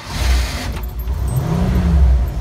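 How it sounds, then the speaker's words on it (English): A 1953 Buick Skylark Roadmaster's engine turns over and settles into a low, rumbling idle, close and loud, with a brief metallic jangle near the start and a slight rise in revs toward the end. "Nice sounding engine."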